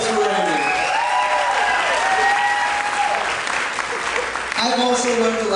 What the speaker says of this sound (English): Round of applause for Randy